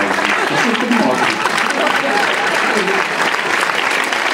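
Steady, loud applause from a theater audience at an Italian Christmas show, dense clapping filling the whole stretch with a faint voice underneath.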